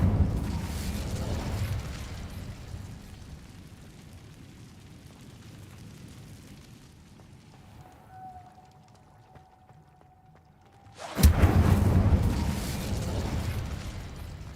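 Incendio fire spell cast in Hogwarts Legacy: a sudden loud whooshing burst of flame erupts after a stretch of quiet underwater-like ambience with a thin sustained tone, then roars on steadily.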